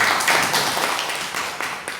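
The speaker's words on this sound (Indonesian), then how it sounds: "Tepuk tangan untuk kita semuanya." An audience at SMK Negeri 2 Yogyakarta claps together in a dense, even wash of applause that fades gradually over two seconds, with no voices over it.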